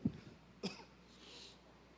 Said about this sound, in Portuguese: Tudo isso para justificar a tosse.